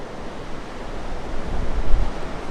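Cold, gusty wind buffets the microphone on the South Australian coast near high tide, a steady broadband roar that swells louder toward the end, with no voices.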